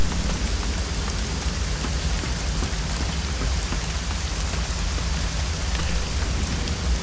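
Rain in the video game Risen 2: Dark Waters, a steady, even downpour of dense pattering drops with a low rumbling undertone, constant throughout and without voices.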